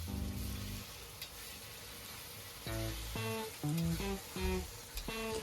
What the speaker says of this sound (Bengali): এখানে কাজু কিশমিশ তারপর সব কিছু দিয়ে একসাথে বেশ ভালো করে ভেজে নেব